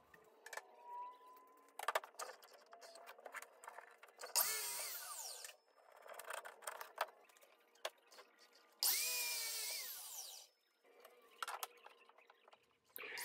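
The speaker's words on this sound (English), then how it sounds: "first thing we need to do is rip down the frame and then miter the edges" Power saw ripping and mitering wooden frame pieces for a shadow box display case, giving two long, loud whining cuts with the motor spinning up and winding down. Clicks and handling noises fall between the cuts, with no talking.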